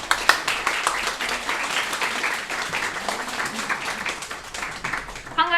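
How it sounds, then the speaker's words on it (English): An audience claps for the winning teams at an event, a steady and fairly loud burst of applause that carries on throughout with some voices mixed in. "Please give them a round of applause again."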